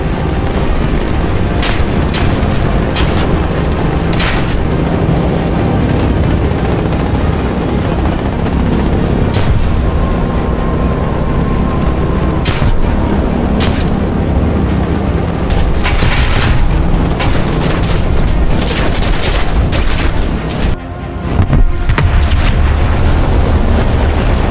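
Bomb blasts and anti-aircraft fire in the War Thunder game, heard as a continuous loud roar of engine and wind noise broken by repeated sharp booms and bursts of fire, with one heavy blast near the end.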